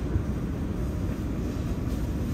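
New York City subway C local train made of R211T cars, running toward 168th Street; a steady low rumble of the moving train with soft rattling, fairly quiet and continuous, without speech.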